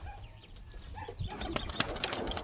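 A young pet bird, likely a pigeon or dove kept by a breeder, flaps its wings in bursts of close, rustling flutter that grows louder in the second half, with a few soft coos.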